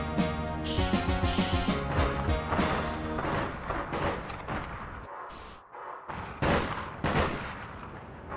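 Gunfire in the video game APB, including sniper rifle shots, comes as a dense run of loud, sharp repeated cracks, then a short lull and several heavy single bangs, with game sounds filling the background.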